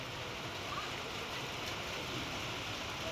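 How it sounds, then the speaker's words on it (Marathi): Rain begins falling outdoors: a steady, even hiss of drops spreads across the whole stretch with no distinct individual hits, fairly quiet and constant throughout. "अचानक बघा पाऊस यायला लागला"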